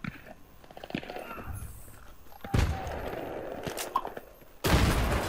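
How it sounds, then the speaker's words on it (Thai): Battlefield 3 multiplayer gunfire: bursts of shots and booms crackle through a busy battle din, with heavy blasts at mid-clip and a loud burst near the end. "เฮ้ยไอ้ใครยิง"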